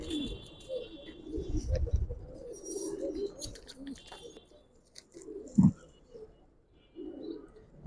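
Giribaz pigeons, including a silver-necked bird, coo softly while being handled, with low murmuring calls, rustling and a sharp knock partway through, and faint voices in the background.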